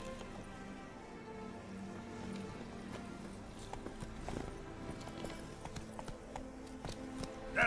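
Hooves of Roach, Geralt's horse in The Witcher 3, clip-clop at a steady walking rhythm, fairly close, over a constant bed of game music and ambience, with no talk.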